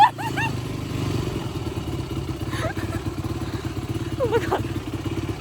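A dirt bike ridden downhill by a first-time rider, its engine putting out a steady, close buzzing drone with clattering over rough ground, while people exclaim over it.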